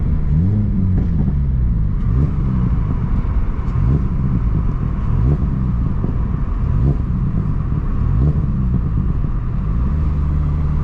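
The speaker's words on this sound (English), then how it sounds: "it just has a catback exhaust on it" A car's catback exhaust rumbles and drones steadily from inside the vehicle, with engine pitch rising and falling as the throttle is worked.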